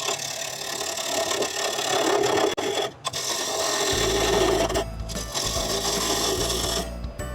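A carbide tool cuts into a small wooden branch being shaped into a tea light holder, making a continuous scraping, rasping sound; a low motor hum joins partway through, with a couple of brief interruptions.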